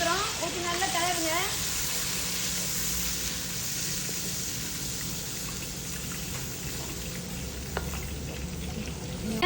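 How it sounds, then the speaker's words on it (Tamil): Ground chilli paste frying in oil with squid for a squid and long bean sambal, stirred in the pan: a loud, steady sizzle runs throughout, with a brief voice near the start. "நம்ம இப்போ அரைச்சி சாந்தை ஊற்றுறோம். ஊற்றி நல்லா கலருங்க."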